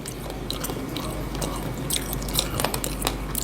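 Close, crisp biting and crunchy chewing on the bones of spicy Isan-style stir-fried frog, with irregular wet crunches and squishes repeating steadily over a faint background hum.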